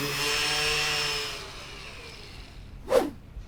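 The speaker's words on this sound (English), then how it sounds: "So as soon as I start this up, the machine starts up, and both of them are battery powered." Battery-powered sander starts and runs with a steady motor whine for about a second and a half, then fades; a brief louder knock or thump follows near the end.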